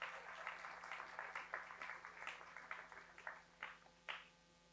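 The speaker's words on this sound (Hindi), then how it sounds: "आइए तालियों के साथ उनका स्वागत करें" Applause greeting first-time visitors at a church worship service, a quiet, distant patter of many hands clapping unevenly for a few seconds before thinning out into a few final claps.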